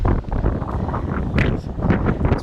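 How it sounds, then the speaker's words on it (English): Wind gusting across a campsite at Norden Farm near Corfe Castle in Dorset, a dense low roaring rush buffeting the microphone with fluttering swells, loud and close, no talking. "It's very windy."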